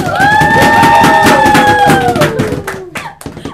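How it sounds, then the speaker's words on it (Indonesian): Audience applause and cheering at a live Ramadan ngabuburit talk show event, a loud burst of clapping and crowd noise with cheers that fades out over a few seconds. "Tepuk tangannya dulu."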